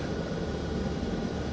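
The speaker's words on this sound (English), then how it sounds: "the helicopter just spawned in there" Helicopter engine and rotor drone heard from inside the cockpit in Microsoft Flight Simulator 2024 during an Andes flight, a steady, dense, unbroken hum at moderate loudness with no talk.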